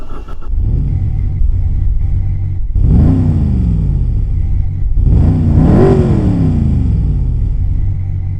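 A car engine rumbles into life and idles, then revs up hard twice in rising sweeps before settling, a loud, close mechanical roar with no talking.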